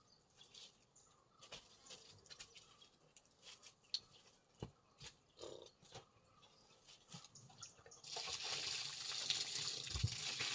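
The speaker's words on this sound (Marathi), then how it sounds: "आणि पाणी टाकून" Water is poured onto fresh soil in a mango plant pot. Scattered soft taps and trickles come first, then a steady close splashing pour takes over near the end.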